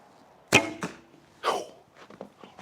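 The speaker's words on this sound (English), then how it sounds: "Almost Robin Hooded my arrow" Arrow loosed from an Assyrian bow, the Minghe Calling Crane, strikes a target: a sharp, close impact crack followed by a few softer rattling knocks and faint clatter in an otherwise quiet setting.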